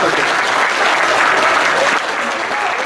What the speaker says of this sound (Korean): 박수 한번 우리 힘내서 쳐주시면